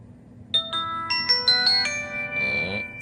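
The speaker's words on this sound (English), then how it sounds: "That was a terrible ring." BlackBerry KEY2 smartphone ringing with an incoming call, a short bright electronic melody of rising chime tones, clear and alone.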